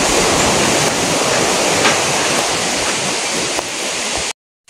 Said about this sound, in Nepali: यो खोला चाहिँ भोजपुर जिल्लाको सबैभन्दा गहिरो खोला